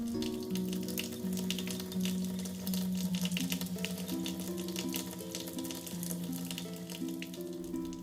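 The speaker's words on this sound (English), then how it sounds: "I'll give the watch a quick rinse and scrub it down with a drop of dish detergent" Running tap water streams steadily over a steel Citizen NY0040 watch as it is rinsed, a continuous close splashing hiss that holds throughout with a faint tonal hum beneath it.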